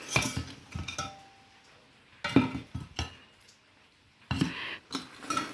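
Metal spoons and ceramic cups clink together in a few scattered, close taps and rattles separated by quiet gaps.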